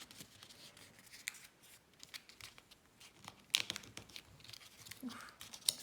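Thin paper being folded into an origami masu box gives soft rustles, crinkles and sharp creasing snaps. The sounds are close, quiet and irregular.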